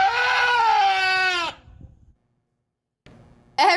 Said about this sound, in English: Every single time I hear that goat scream, it makes me laugh every time without fail